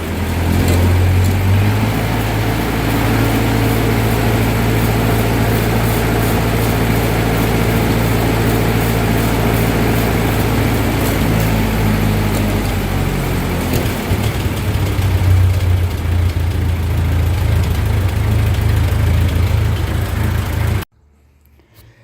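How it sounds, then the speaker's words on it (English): A 1945 Ford 2N tractor engine with a worn carburetor shaft sucking in air idles at about 700 rpm. It runs close and loud as a steady, slightly lumpy low rumble for about twenty seconds before cutting off abruptly. "We got it idling now about 700."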